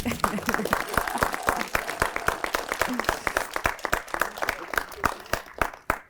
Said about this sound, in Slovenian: ki mu boste gotovo zaploskali